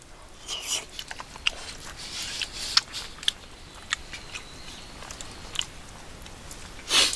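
Hotel-chef-style beef curry being eaten outdoors at a solo campsite by Lake Biwa: faint, close bites and chewing, with a few soft clicks and a louder rustle near the end, no talk.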